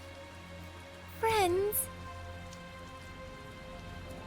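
Rain patters steadily in the video game Tales of Zestiria, a constant soft wash under faint background music, while a voice briefly speaks over it.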